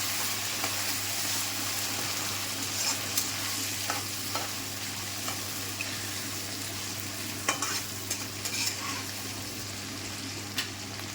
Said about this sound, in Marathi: एक टमॅटो कट करून घेतला आता ते टाकून घेणार आहे ह्याला पण पूर्णपणे तळून घेणार आहे